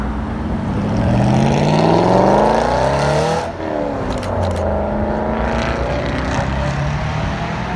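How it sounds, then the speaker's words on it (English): An Aston Martin GT8 supercar drives past on a town street, its engine swelling into a loud, sweeping pass-by roar with a falling pitch, then easing off as it moves away. "This is an Aston Martin GT8."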